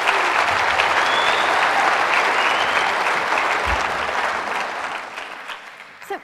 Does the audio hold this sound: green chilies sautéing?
no